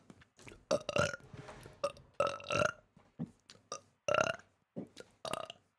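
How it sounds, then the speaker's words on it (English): Repeated burps from a Twitch streamer, about nine separate eructations of varying length in an irregular rhythm, loud and close with short pauses between them and no talking. "Theoretically, I can burp forever."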